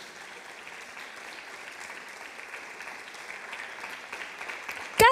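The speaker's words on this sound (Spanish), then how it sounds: "Usted si quiere aplaudir," A church congregation claps steadily for several seconds, a dense, even patter of many hands with no voices over it, ending in a sudden louder burst.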